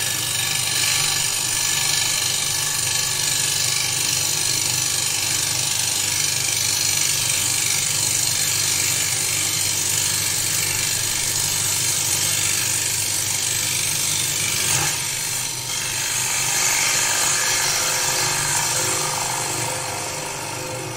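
A wood lathe spinning a plate blank as a gouge cuts across its face, a steady dense roar of cutting and motor noise held throughout without speech.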